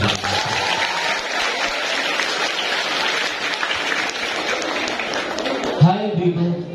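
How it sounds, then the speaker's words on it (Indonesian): Applause from an audience at an Islamic boarding school gathering in Jawilan, a steady burst of many hands clapping that fades out toward the end as a voice starts speaking. "tepuk tangan untuk Bapak."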